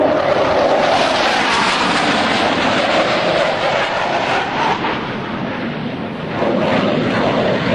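Navy Blue Angels jets converge at high speed during an airshow flyby at a 2003 Rhode Island Air National Guard open house, a loud, sustained roaring jet rush that holds steady, dips slightly, then swells again.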